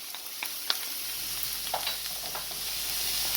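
Spring onion (escallion) sizzles steadily in a hot pan as it is stir-fried for vegetable fried rice, a close, continuous frying hiss broken by a few sharp clicks of stirring, with no talking.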